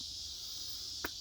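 A steady, high insect drone fills the air, like crickets chirping continuously in the evening, with one brief click near the end.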